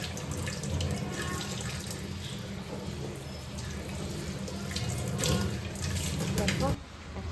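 Running tap water rinses dust off an indoor houseplant, a continuous close splashing stream that holds steady for several seconds, with a voice talking over it.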